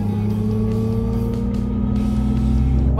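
A Mercedes EQS 53 AMG electric car drives with a loud, continuous layered electric hum of sustained steady tones, the synthetic drive sound holding even throughout.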